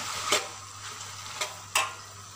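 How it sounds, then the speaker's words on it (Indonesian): Noodles being stirred in a pan while frying for mee goreng, a soft sizzle underneath with a few sharp scraping clacks of the utensil against the pan, spaced irregularly. "Lepas masuk mi, kita kacau sebati ya."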